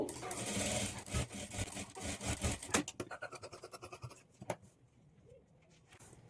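A sewing machine hums quietly and rhythmically while stitching the lining of a blouse with invisible thread piping, then its rapid chatter thins out into scattered soft clicks and handling noises.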